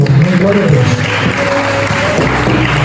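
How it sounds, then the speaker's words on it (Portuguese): A congregation applauds during a Holy Communion service at an Assembly of God church, a steady wash of clapping under a voice. "as palmas louvam ao Senhor"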